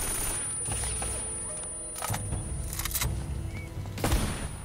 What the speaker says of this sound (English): You just gonna keep shooting?